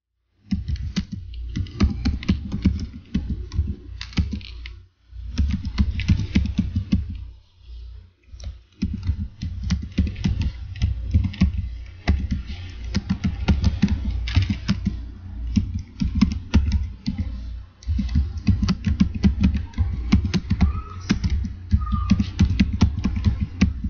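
Text is typed on a computer keyboard in rapid, continuous key clicks with brief pauses between bursts, close and steady throughout, with no speech.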